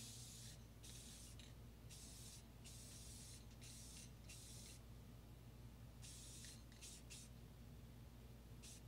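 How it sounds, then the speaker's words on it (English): A clear coat spray can hisses in a series of short and longer bursts with brief gaps, close by and fairly quiet, with no talking. "All I'm going to do is give it a spray."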